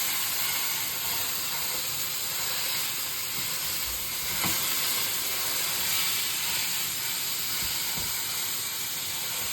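Ground meat sizzling steadily in a pan for a Sunday night dinner, a constant bright hiss with a few soft clicks and scrapes, close and continuous with no talk.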